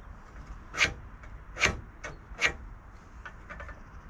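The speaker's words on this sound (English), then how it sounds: "scribe down the side." A scribe is drawn down the side of a metal trailer panel during fabrication: three distinct scratchy strokes about a second apart, close and fairly quiet, followed by fainter scraping.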